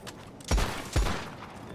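Two sharp gunshots from Red Dead Redemption 2 game play, about half a second apart, each a loud crack with a short fading tail, with no talk over them.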